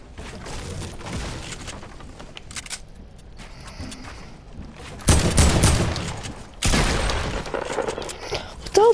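Pump shotgun fire in Fortnite: two loud heavy blasts with ringing tails midway through, plus a sharp final shot, over busy game noise and clicks, with someone talking.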